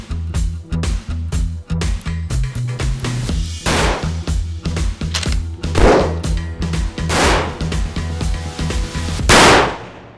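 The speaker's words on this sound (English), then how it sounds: "I'm going to shoot each one of these scopes" Rifle shots fired while testing scopes outdoors, a quick series of sharp cracks and clangs of varying loudness with a few louder booming shots, close to the listener, no talking.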